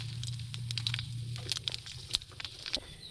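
Mustard seeds crackle and spit as they temper in hot oil left from frying fish, for a village-style sour fish dish; sharp pops scatter irregularly over a low steady sizzle, with no talk.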